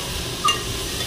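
Salan curry fries in a pot on a village stove outdoors in rural Pakistan, giving a faint, steady sizzling hiss with a brief soft clink of stirring.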